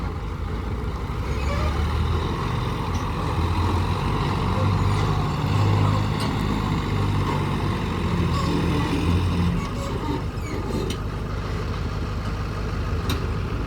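A new Sonalika tractor engine running nearby, a continuous loud diesel rumble with a low throbbing drone that holds steady throughout, no speech.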